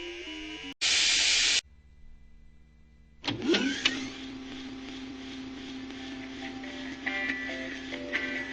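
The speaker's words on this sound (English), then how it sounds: "So we begin this stage with an elevator ride." Mega Man 5 elevator ride: a loud synthesized burst and then a steady electronic hum with shifting tones, heard over game music, no one talking.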